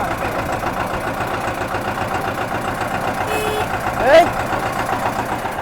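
An Eicher 312 tractor engine runs at a steady idle, a low, chugging drone throughout, with a brief louder swell near the end.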